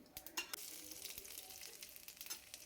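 Cumin and mustard seeds sizzling and crackling in hot oil in a pan, a soft, close frying hiss with small popping bursts, fairly quiet and without talk.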